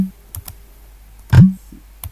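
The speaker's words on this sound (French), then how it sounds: "Vu que les commandes se font avec le clavier" Sparse keystrokes on a computer keyboard while someone edits in Vim, a few isolated clicks followed by one heavier thump, close and clear with quiet gaps between them.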